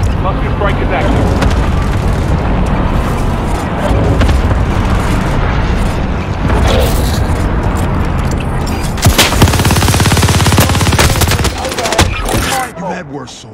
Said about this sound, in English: Position marked. Airstrike. Hit it.